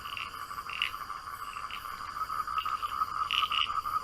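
Frogs croak in a continuous chorus of rapid trilling pulses, moderately loud and steady with no voices, layered like a sound effect.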